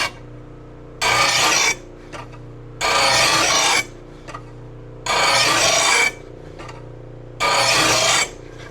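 A steel lawn mower blade is sharpened with a hand file in four long rasping strokes. The strokes come at an even rhythm with short pauses between them, and they sound close and loud with no talking.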